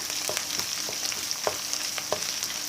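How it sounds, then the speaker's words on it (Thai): Red curry paste and pork stir-fried in a wok give a steady, fairly soft frying hiss with a few spatula scrapes at irregular intervals, close by and with no talking. "ผัดไปกับหมูที่เราเคียวไว้ ผัดจนพริกแกงหอมนะคะ"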